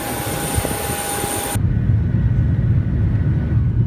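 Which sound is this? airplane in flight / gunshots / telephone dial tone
airplane in flight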